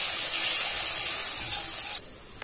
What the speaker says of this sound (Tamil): இதுல சேர்த்துட்டு புளி ஒரு கொதி வரட்டும்